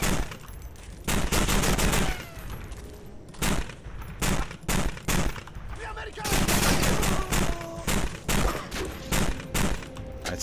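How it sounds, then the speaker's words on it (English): Sustained bursts of loud machine-gun fire in a war video game, rapid rattling volleys broken by short pauses and repeated across the span. "Dude, this one's an actual machine gun."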